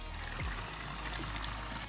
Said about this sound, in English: this is distilled water that I'm pouring in here.